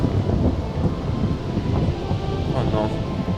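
A storm builds with dense, rumbling low noise, gusting wind buffeting the microphone, and rain, a continuous loud roar with a few sharper crackles.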